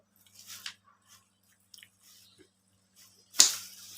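Chewing on watermelon and banana: a few soft, wet crunchy bites spaced apart in a quiet room, the last one loudest and closest, with no talking.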